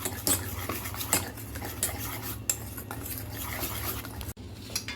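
A spoon stirs a batter of colocasia (arbi) leaf mix with a pinch of baking soda and lemon juice in a bowl, giving steady scraping and light clinks close by, with no voices.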